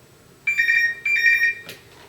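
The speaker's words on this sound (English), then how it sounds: "This phone should ring." Telephone ringing as an Advent Controls A3.02 alarm dialer calls it, two short warbling electronic ring bursts, clear and close, followed by a soft click.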